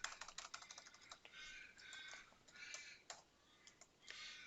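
Quiet, close computer keyboard typing as a git command is entered, a quick run of key clicks in short irregular bursts with brief pauses, no speech.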